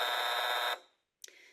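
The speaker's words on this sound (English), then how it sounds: "The buzzer sets the tone to call Rosa into the" A steady electronic buzzer drones loud for most of a second, then cuts off sharply, leaving silence before a brief clatter, calling a woman into interrogation at an immigration station.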